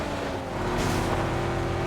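Car engine droning steadily while driving in the video game PUBG, a continuous close motor hum with a brief surge of noise midway, no talking.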